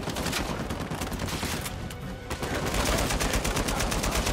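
Rapid, sustained gunfire in an Uncharted 4 firefight in a marketplace, a loud continuous burst of shots with machine-gun rattle that keeps going with no break.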